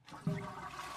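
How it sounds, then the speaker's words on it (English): A toilet flushes in a single short, loud rush of water that surges up after a brief quiet start and keeps going to the end. "I got to listen to a whole podcast of toilet flushing."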